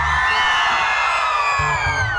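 A large Bihu concert crowd whistles and cheers in a continuous loud wash of shrill whistles and shouting, with a few deeper voices yelling underneath.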